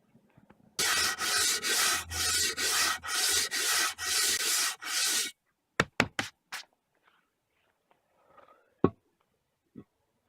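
The steel sole of a large old jointer plane is rubbed flat and clean on an abrasive surface in eight rhythmic back-and-forth rasping strokes, close and loud, followed by a few sharp knocks and faint handling taps.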